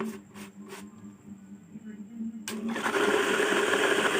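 A homemade blender built from a DC motor starts up with a sudden loud whirring hum that holds steady, after a few quiet clicks and some faint talk beforehand.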